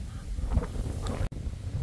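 Steady wind buffeting the microphone on a chilly summer day outdoors in Hokkaido near the water, a continuous low rumble with gusts and a brief dropout partway through.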